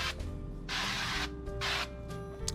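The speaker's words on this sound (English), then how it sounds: "Let's get some non-stick spray on this bad boy." Cooking spray hisses from a can onto a Pokémon waffle maker in two short bursts of about half a second each, close and fairly quiet over a steady appliance hum.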